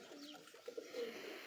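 Pigeons coo softly on a rooftop in Mianwali, with a few faint, low calls in the middle of a quiet, distant-sounding stretch and no talk.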